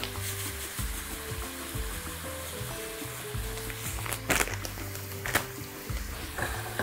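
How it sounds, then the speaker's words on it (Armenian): Grated beetroot seasoned with apple vinegar and sugar fries in a pan for borscht, a soft, steady sizzle with occasional stirring scrapes and a low background hum. "և տապակում ենք, մինչև փափկի"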